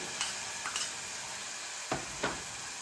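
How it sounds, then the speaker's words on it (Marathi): Bell pepper, tomato and carrot sauté in a little oil for millet mini pizzas. A soft, steady sizzle runs throughout, and a few spatula scrapes and stirs stand out, quiet and close, with no talking. "मी थोडंसं तेल घातलेलं आहे याच्यामध्ये आपण अशा परतून घेतो आहे सगळ्या भाज्या"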